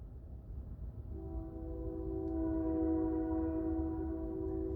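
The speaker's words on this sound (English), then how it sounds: "shut up, train." A train passes with a loud, sustained horn blast that starts partway through and holds steady over a constant low rumble of the moving train.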